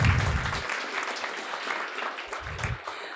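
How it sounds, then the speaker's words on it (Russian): Audience clapping at a student project defense event, a steady patter of applause from a roomful of people lasting a few seconds, with a voice speaking briefly over it at the start and near the end. "Да, давайте друг другу похлопаем."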